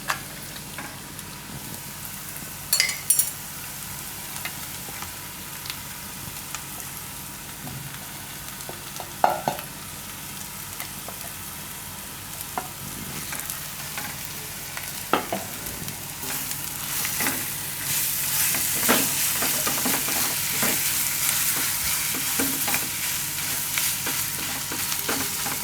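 Boiled ground soya frying in a pan over a low flame, a continuous soft sizzle punctuated by frequent close scraping and tapping strokes of a spoon as it is stirred, growing slightly louder near the end, with no talking.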